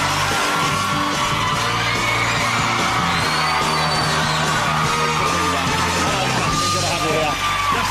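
A studio audience at a television talk show screams, yells and whoops loudly and continuously as pop star Justin Bieber makes his entrance, a dense wall of crowd noise throughout.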